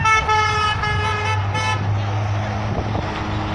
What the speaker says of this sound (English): Lots of people honking.